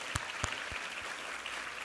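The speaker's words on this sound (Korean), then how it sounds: "우리 하나님께 감사와 영광의 박수 올려드리겠습니다" Congregation applauding in a church after a sermon reading, a steady wash of clapping with a few sharp, louder claps standing out near the start, no voices.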